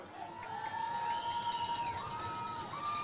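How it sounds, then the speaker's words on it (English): Crowd noise rises at a football stadium during a college game, a broad roar of cheering voices with whistle-like tones and shouts rising over it, sustained for a few seconds. "And the crowd is rocking."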